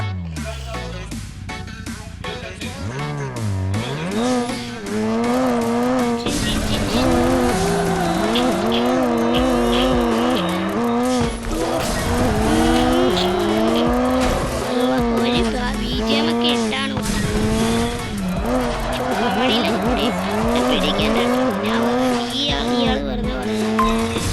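In the Race Max Pro game, a car drifts with loud engine revs rising and falling under long, wavering tire squeals, sustained almost continuously at close range with brief gear-change dips.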